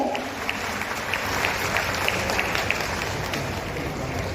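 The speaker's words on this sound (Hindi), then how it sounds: "तालियां आपकी ओर से हो, विभाग की ओर से हो।" An audience at a women's cooperative event in Jamshedpur, Jharkhand, applauds in a sustained, even roar of many hands clapping that runs throughout at moderate volume without voices.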